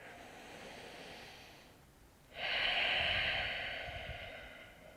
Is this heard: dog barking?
no